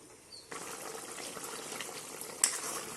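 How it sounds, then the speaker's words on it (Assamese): Chicken with white gourd boils in a covered pot, giving a steady bubbling, seething hiss that starts abruptly and carries on at an even level, close and fairly loud, with one brief sharper splash near the end. "এয়া দেখিছে মাংস একেবাৰে উতলি আছে।"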